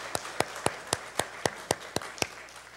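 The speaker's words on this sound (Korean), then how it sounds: "앞에 큰 영광의 박수 올려드리겠습니다" A church congregation claps at a Sunday worship service, about nine crisp, evenly spaced claps in a steady rhythm, fairly faint and with no talking over them.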